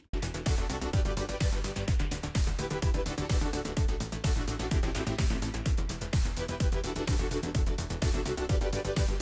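A 2009 remake of an electronic music track plays alone, with a steady four-on-the-floor kick drum, dense bright synth layers and constant high-hat sparkle at an even, loud level throughout.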